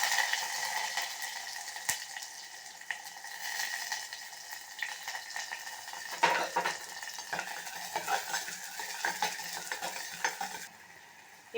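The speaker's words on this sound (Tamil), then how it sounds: "ஆனியன் சேர்த்துடுறேன்" Onions frying and being stirred in a pan for a dried vanjaram fish curry, a soft continuous sizzle with repeated utensil scrapes and clinks that grow busier midway, no voices.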